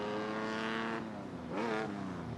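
Pre-war sports racing cars at speed on a circuit, among them a pale green Talbot AV 105 and period Bentleys; loud, continuous engine roar with two cars passing close in quick succession, pitch dropping as each goes by.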